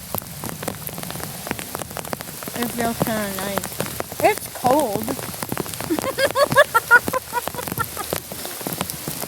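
Steady rain falls outdoors on surfaces, a dense patter of drops running throughout while a person talks close by over it.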